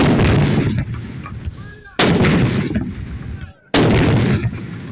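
Cannon salute fired by army troops on Defence Day, a 21-gun ceremonial salute: three heavy booming blasts about two seconds apart, each rolling off into a long echoing tail, loud and close with no talk.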